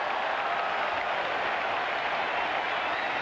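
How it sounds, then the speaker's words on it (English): A sellout crowd at an opening-day baseball game between Toronto and Boston lets out a steady, dense roar of oohs and ahs, broad and continuous throughout with no single voice standing out. "That draws some oohs and ahs from the sellout crowd"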